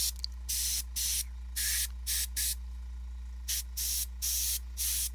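A Badger airbrush sprays reddish paint in a series of short hissing bursts, about eight separate puffs with brief pauses between them, close up over a steady low background hum.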